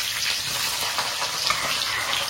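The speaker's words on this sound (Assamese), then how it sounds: "তেল গৰম হৈ গ'ল চব দি একদম ভাজি আছো" Onions and meat frying in hot oil for a pulao, with a steady, bright sizzle and crackle and occasional stirring scrapes, close and continuous without talk.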